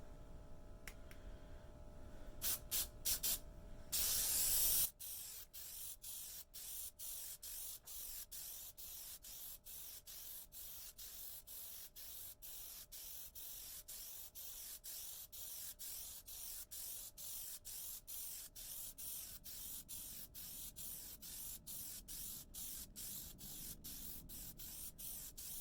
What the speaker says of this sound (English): I sprayed this, and the rubberized coating that is the plastidip got bunched up on the tip